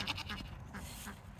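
A goat on a homestead gives a few soft, wavering bleats, faint and slightly distant over steady outdoor background noise.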